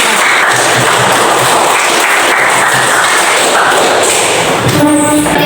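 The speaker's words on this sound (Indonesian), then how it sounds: "Tepuk tangan dulu." Loud, dense applause from an audience in an art class presentation session, a steady roar of clapping that continues with no talk until a brief tonal sound near the end.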